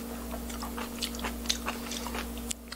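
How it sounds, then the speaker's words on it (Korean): Cold Korean corn tadpole noodles in perilla sauce are eaten up close, with scattered wet clicks and soft slurping mouth sounds over a steady electrical hum, and no talking. "얼챙이 국수는 좀 후루룩 후루룩 이렇게 먹는 겁니다."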